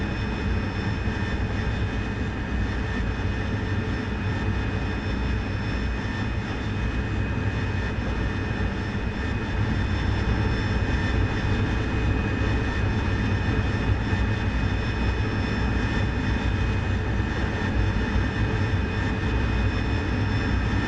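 P-51 Mustang piston aircraft engine in the DCS flight simulator game, a loud continuous droning roar with steady low-pitched throb and no talk over it.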